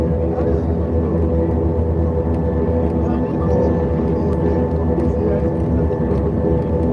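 Airliner taxiing toward the second runway at Lagos Airport, heard from inside the cabin as a steady, loud engine drone and hum that stays constant throughout.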